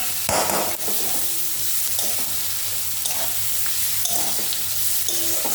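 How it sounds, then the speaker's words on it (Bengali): Onions frying in leftover fish oil for a Bengali fish curry, a continuous close sizzle with a utensil stirring and scraping the pan at intervals, occasional light knocks, no voices. "এখন আমি দেখেন মাছের তেলটা রেখেছি, এটার মধ্যে এটা ঢেলে দেবো পেঁয়াজটা"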